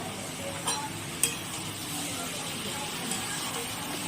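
Curry sizzling in a pan with turmeric, salt and green chillies, giving a soft steady frying hiss with a couple of brief scraping stirs.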